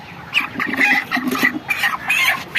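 Month-old broiler chickens of about 1.6 to 1.8 kg, crowded together on a poultry farm, cluck and chatter continuously at close range in a busy, overlapping din.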